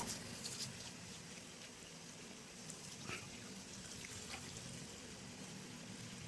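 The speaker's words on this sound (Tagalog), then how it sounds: "binuhusan lang natin ng tubig itong mga moss para para maganda yung humidity sa loob ng kulungan nila" Water poured from a container onto moss inside an isopod enclosure, a soft steady trickle and splash that runs continuously, faint and close, with no talking.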